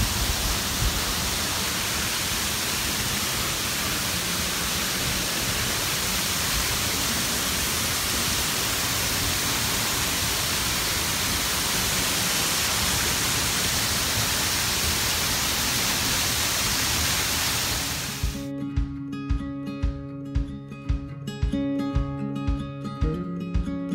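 Waterfall in the Orridi di Uriezzo gorge, a steady, loud broadband rush of falling water filling the scene close by for most of the stretch before it cuts off into quieter, sparser sound.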